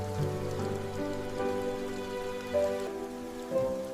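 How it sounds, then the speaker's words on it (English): Rain falls steadily on surfaces in a garden, an even, continuous patter with no voices, under a faint tonal background. "The rain sounds so peaceful."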